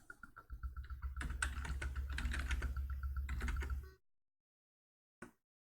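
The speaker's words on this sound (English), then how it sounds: "now I'm conscious of my typing because I got reminded that it's quite loud on this microphone" Rapid typing on a loud computer keyboard picked up close by a desk microphone, a dense stream of clicky keystrokes for about four seconds, then silence and one last isolated tap.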